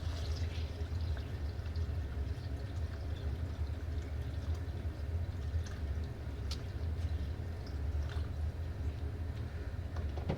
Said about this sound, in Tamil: இப்போ தேவையான அளவுக்கு தண்ணி ஊற்றிக்குங்க.